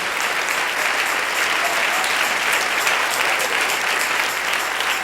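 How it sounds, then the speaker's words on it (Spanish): Sustained applause from a church congregation during a Spanish-language worship service, steady, dense clapping filling the room for the whole stretch with no voices on top. "Dale ese aplauso al Rey en esta mañana"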